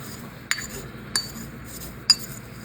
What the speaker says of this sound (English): my mortar and pestle and grind it up and mix it up for the tuna